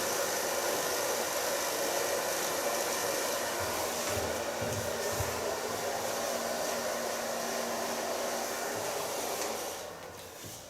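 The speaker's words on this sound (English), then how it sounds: "So far blow drying." Steady, loud hair dryer blowing continuously as a man's hair is blow-dried, a broad whooshing hiss with motor hum that holds for about ten seconds before easing slightly at the end.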